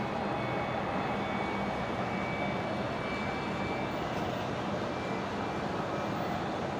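A Virgin Australia jet departing Brisbane for Canberra rolls down runway 19 left, heard as a steady, distant broadband roar of jet engines that holds evenly throughout with no voices.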